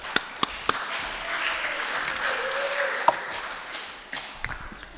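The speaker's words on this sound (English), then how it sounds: "Clap, clap." An audience at a women political leaders summit breaks into clapping, a modest, sustained patter of applause with a few sharp, close hand claps standing out near the start and end.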